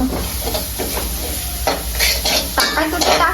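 A gram-flour zunka mixture is stirred in a hot pan, with steady close scraping and stirring strokes over a continuous sizzle, loud and near, with no talk.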